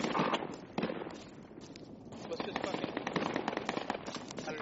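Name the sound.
shotgun shots in a video game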